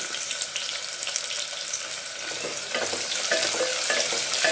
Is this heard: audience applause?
no